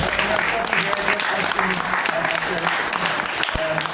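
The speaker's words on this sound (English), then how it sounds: "Let's give them a round of applause." An audience at a tech demo night claps loudly and steadily for several seconds, with a few voices mixing in near the end.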